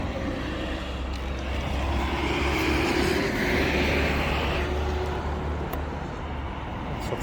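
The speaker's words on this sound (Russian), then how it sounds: "Давайте будем залазить и, собственно, запускать наш тракторок." A Yanmar F210 three-cylinder, 21-horsepower tractor with 623 engine hours runs at a steady idle, giving a continuous low drone with a faint higher hum and no talk.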